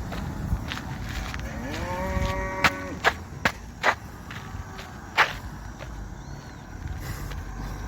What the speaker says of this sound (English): They're also rearing cattle in this neck of the woods.